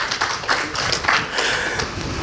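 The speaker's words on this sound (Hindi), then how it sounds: "इनके लिए तालियां बजा लो" A small audience at a meditation and yoga talk claps together, the separate hand claps close and clearly audible, running steadily with no voices on top.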